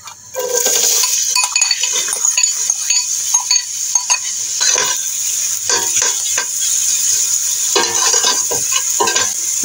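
Chopped onion sizzles in clarified butter in a pot for a Kazakh zucchini soup. A steady loud fry carries repeated scraping stirs and spoon clinks against the pot, with no talking.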